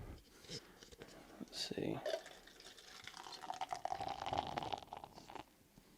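Blue Moon mango wheat beer pours into a glass with a bubbling, gurgling fizz that swells then settles, while a person talks over it.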